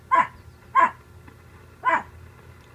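A dog barks in sharp single woofs, four loud, clear barks spaced irregularly with quiet gaps between them and no talking.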